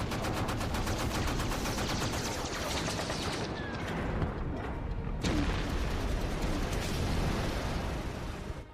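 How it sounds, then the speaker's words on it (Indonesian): Naval gunfire from warships in a war film fills the scene with rapid, dense bursts of cannon and machine-gun fire and booming blasts, loud and continuous, briefly thinning midway before another heavy salvo resumes. "Kapten Snow memerintahkan untuk menghindari tembakan musuh"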